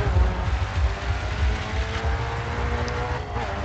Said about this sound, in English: now my car doesn't sound healthy again.